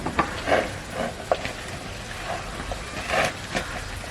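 Soft scraping and stirring of marinated fish and masala in a bowl, irregular wet clicks against a low background hum.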